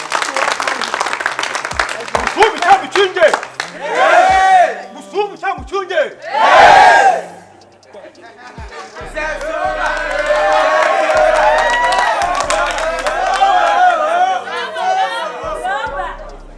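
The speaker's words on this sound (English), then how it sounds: "So, clap your hands for the headmaster." Students in a school assembly clapping and cheering for their headmaster, scattered claps and shouts at first, then bursts of loud cheering, swelling into sustained applause with whoops and crowd chatter.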